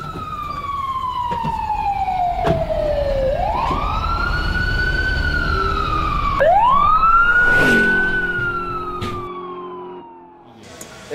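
Emergency vehicle sirens wail loudly and close, rising and falling in long sweeping cycles over a rumbling engine, fading toward the end with no voices over them.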